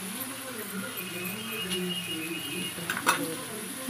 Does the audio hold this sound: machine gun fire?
no